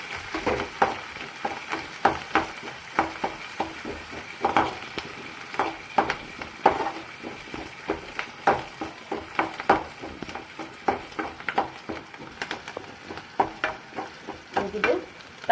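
Onion, green chili and curry leaves sauté in a pan with spluttered mustard seeds under a steady sizzle, punctuated by a quick, repeated rhythm of spatula stirs and scrapes.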